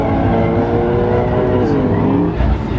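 Nissan GT-R engine at a race track, a loud, steady low rumble with a revving note that rises near the end, with voices talking over it.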